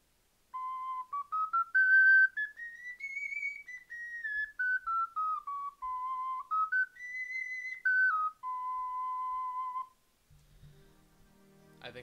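A Songbird Focalink soprano C ocarina, played dry without effects, carries a pure whistle-like melody that rises and falls through several sustained notes for about nine seconds before a soft rustle.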